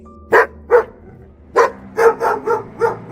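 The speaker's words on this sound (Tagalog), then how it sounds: "Nagulat ako nang marinig ko ang tahol ng aso, kaya napalingon ako sa labas ng bintana" Dog barking in a string of sharp, loud, close barks, two quick ones, a pause, then five or six in a steadier run, with no talk.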